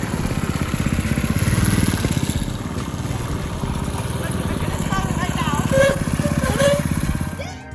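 Small engine on a motorized drift trike running steadily, a close rattling putter with a slight rise in revs, with a voice speaking over it.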